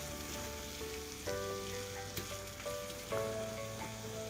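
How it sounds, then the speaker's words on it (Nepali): Chopped tomatoes cooking in a covered pan for a capsicum and potato curry, giving a steady close crackling sizzle with a few louder bursts and a faint tonal hum underneath. "छोपेर 1-2 मिनेट जति टमाटर गलुन्जेल जति पकाउने"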